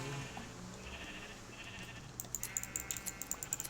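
Sheep in Minecraft bleat in a quick series of short, bright calls near the end, over a faint background of game ambience.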